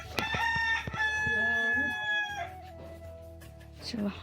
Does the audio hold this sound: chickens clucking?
yes